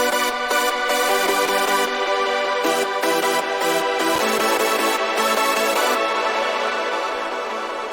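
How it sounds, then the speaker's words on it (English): Hardstyle chord layer built from a heavily detuned supersaw synth, a wide, buzzy, full chord stack pulsing in rhythmic gated chops, loud and dense throughout with no speech. "this is quite heavily detuned supersaw"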